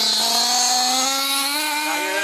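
A small Alpha engine runs steadily during break-in passes, a loud, continuous high-pitched buzzing whine with a slowly rising pitch and no pauses.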